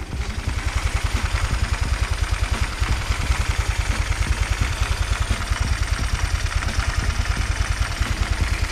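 A carbureted Honda Vario scooter fitted with a PE 24 carburetor idles close by, its engine putting out a steady, rapid low-pitched putter with a faint mechanical clatter and no talk.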